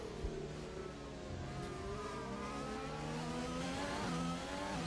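A Formula 1 car engine during a practice session at Abu Dhabi in the F1 2020 video game, screaming steadily at high revs with rising gear sweeps and faint tire noise, loud and continuous with no talk.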